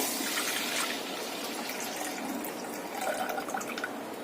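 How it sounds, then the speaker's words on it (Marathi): Water pouring and trickling steadily into a pressure cooker holding rice, a continuous gurgling splash with no voices. "आता आपण कुकरमध्ये हे तांदूळ घालायचे सगळे, आणि या तांदळाप्रमाणे मी 3 ग्लास पाणी घेतलेले आहे, ते घालूया।"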